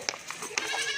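A Rajanpuri goat for sale bleats in two or three short, loud, close calls within a second.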